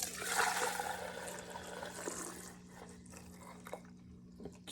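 Bubble solution poured from a glass into a pot, a steady close splashing stream that tapers into a few scattered drips, with no talking.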